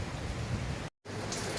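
Heavy typhoon rain in Hong Kong pours as a dense, steady hiss, close and fairly loud, broken by a brief gap of silence near the middle before resuming.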